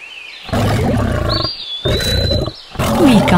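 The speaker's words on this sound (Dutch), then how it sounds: "Goed geraden, het is de leeuw." A lion roars loudly and up close in several long, throaty bursts separated by short pauses, with no voices present.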